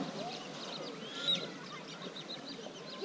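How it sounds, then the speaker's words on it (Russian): Ducks call faintly across a lake, with soft honking quacks scattered over steady outdoor background noise and one slightly louder call near the middle. "Маленькие уточки приплыли."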